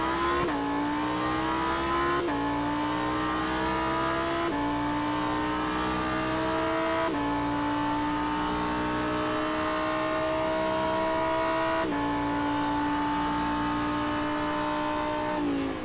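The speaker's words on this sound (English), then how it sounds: "On board with James Bowders in the number 92 Lamborghini STC." Onboard a Lamborghini Super Trofeo race car on the Detroit circuit, the engine climbs loudly through the revs, with sharp upshifts marked by sudden pitch drops, repeated over and over at close range.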